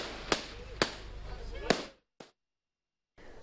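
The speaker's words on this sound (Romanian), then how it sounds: "Iar focurile de artificii au adus un plus de strălucire sărbătorii." Fireworks burst at a winter holiday celebration, with three sharp loud bangs spaced across the first two seconds and crackling trailing after them. A brief pop follows after a sudden drop to silence, then noise returns at the end.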